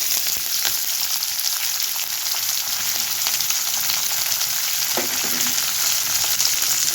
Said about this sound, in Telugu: ఉల్లిపాయలు బాగా వేగాలి